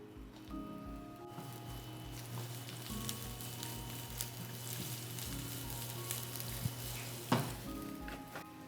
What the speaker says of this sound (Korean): 가장 단단한 야채인 당근부터 넣겠습니다.